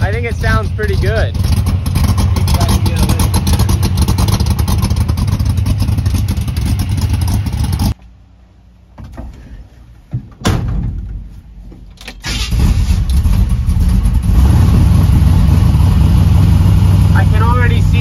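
A Chevy C10 pickup truck engine runs after sitting for 20 years, loud and steady close to the microphone, briefly dropping away for a few seconds mid-clip before the engine noise returns just as strongly.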